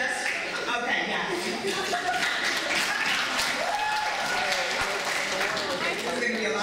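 Audience applause at a Women of Rock oral history panel at Smith College, steady dense clapping filling the room throughout, with some chuckles and voices mixed in.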